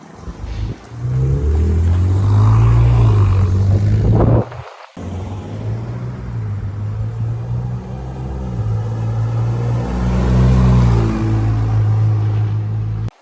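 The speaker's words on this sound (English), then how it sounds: "that was in the stock mode, drive past, at the speed limit, having a listen to what it sounds like" A stock-mode Ford Raptor with a twin-turbo V6 drives past at the speed limit, a deep engine rumble swelling loud and close, cutting briefly, then a second steady pass of low droning exhaust.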